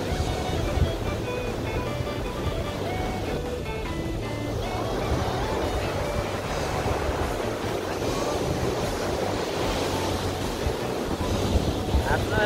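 Sea waves washing in at a beach park on the Kashima-nada coast, a steady close wash of surf mixed with wind buffeting the microphone, with someone talking faintly underneath.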